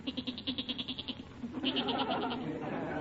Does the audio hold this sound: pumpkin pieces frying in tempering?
no